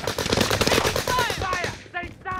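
Rapid bursts of automatic gunfire crackle in a Call of Duty: Warzone quads match on Fortune's Keep, played on PS5, dense and loud with overlapping shots before tapering into sparser pops.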